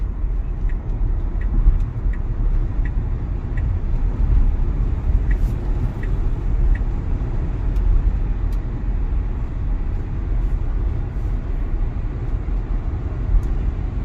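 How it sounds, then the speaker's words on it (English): A 2022 Tesla Model Y built at Giga Texas drives along, with steady, loud broadband road and tire rumble and a faint high whine running throughout, heard from inside the cabin with no talking. "I'm going to just do a quick little drive with, again, this is the 2022 Model Y out of Giga, Texas"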